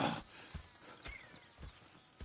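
Horses walking in Red Dead Redemption 2, with steady, evenly spaced hoof clops on the ground. The steps are fairly soft and sound close, with no other sounds.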